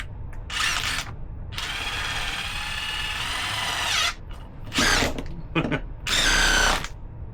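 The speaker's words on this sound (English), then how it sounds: "I don't know if I can drill through these" A power drill bores into a Converse canvas sneaker, strong enough to bend the bit: a long grinding whine of several seconds, then shorter loud bursts of drilling with brief pauses between them.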